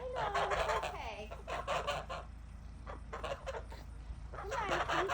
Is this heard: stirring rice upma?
no